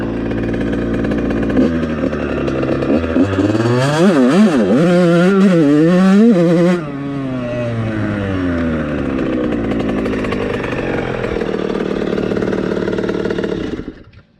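A Yamaha YZ85 two-stroke dirt bike with VForce4R reeds, an FMF SST pipe and a shorty silencer revs hard and close, its buzzing whine repeatedly rising and falling before settling to a loud steady drone.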